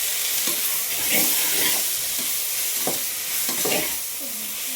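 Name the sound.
stirring chili powder, salt and coriander masala in a pan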